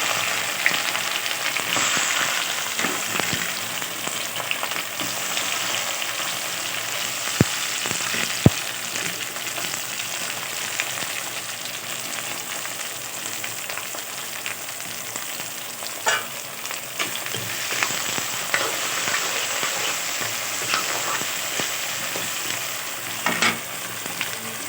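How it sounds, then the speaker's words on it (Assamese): Chopped onion, ginger and garlic sizzle and crackle in hot mustard oil for duck meat curry, a steady dense frying hiss with occasional stirring clinks and pops, close by and without talk. "এয়া মিঠাতেল গৰম হৈছে। তেল গৰম হোৱাত এয়া কাটি লোৱা পিঁয়াজ আৰু আদা নহৰু দি দিয়া হৈছে।"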